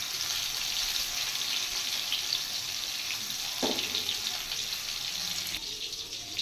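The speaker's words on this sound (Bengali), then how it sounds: "কাঁকরোলগুলো লাল করে ভেজে নেব।" Whole teasel gourds (kakrol) fry in hot oil, giving a steady close hiss and sizzle that runs throughout with little change in loudness.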